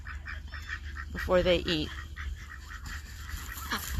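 Farm ducks on a lake-side farm give a few honking, quacking calls, one loud nasal burst standing out mid-way, while a person speaks nearby over soft outdoor background.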